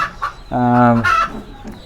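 A brooding hen sitting on a clutch of eggs at a home farm gives a loud, close, drawn-out clucking call, framed by a few shorter throaty clucks before and after.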